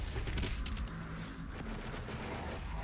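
Sustained rapid gunfire from Doom Eternal hammers at an armored baron, a continuous clattering stream of shots with heavy low rumble and impacts, steady and loud throughout.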